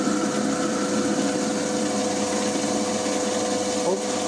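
An FDB Maschinen Turner 250x550 lathe turns at 620 rpm with a steady, even motor hum and faint whine, running continuously close by.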